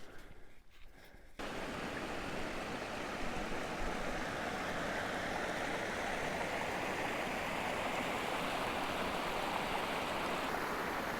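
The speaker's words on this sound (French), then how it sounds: "Ça, c'est l'eau la plus pure du monde! L'eau de source!" A mountain spring stream flows steadily on a high pass, a broad constant rush of water close by that swells in after a brief quieter moment and then runs on alone.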